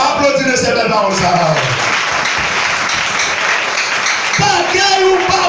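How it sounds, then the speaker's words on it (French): Audience applause during a church sermon, sustained clapping across the whole span with a voice speaking over it at the start and end. "Applaudissez ces belles paroles, ça."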